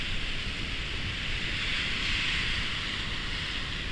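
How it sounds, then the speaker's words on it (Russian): Sea surf breaking on a rocky shore, a continuous hissing roar of water with a slight swell in the middle, steady and moderately distant, with no voices. "Прибой слышно."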